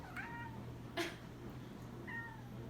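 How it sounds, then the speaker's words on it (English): A house cat meows softly indoors, giving two short faint meows about two seconds apart, with a brief rustle in between over a low steady hum. "he just like started meowing at me"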